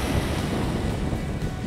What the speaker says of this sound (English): drift away to the sound of the waves